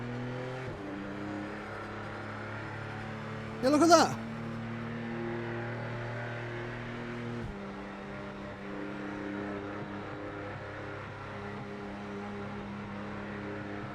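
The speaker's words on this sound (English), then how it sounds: "Is the audio not actually connected physics-wise to the actual transmission engine?" Simulated car engine in a racing video game hums and drones steadily at low pitch, with a brief louder burst near four seconds, while someone talks over it.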